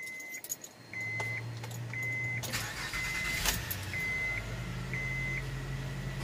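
A car engine cranks and starts after an oil filter change, settling into a steady low idle. Keys jangle, and a few short beeps and clicks sit over the running engine.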